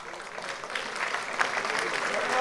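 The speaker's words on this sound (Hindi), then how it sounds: "माणिक राव जी, जोरदार तालियां होनी चाहिए।" Audience applause at a book launch event, moderate clapping that builds slightly over a couple of seconds, with a voice speaking underneath.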